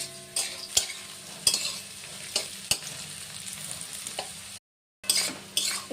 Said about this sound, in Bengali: বটবটি গাজর কিশমিশ কাজু দিয়ে সব একসাথে ভালো করে ভেজে নিচ্ছি